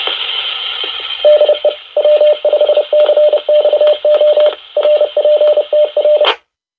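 A Baofeng UV-21R handheld radio receives a repeater transmission: a steady hiss with a series of short, clipped tone bursts, ending in a squelch tail and abrupt silence.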